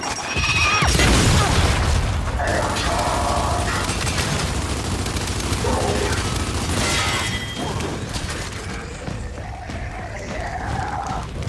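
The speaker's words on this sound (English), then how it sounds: "Throwing frag!" Frag grenade blasts and gunfire in the video game Gears 5: Hivebusters, a dense, loud, continuous barrage of booms, crashes and shots with no gaps.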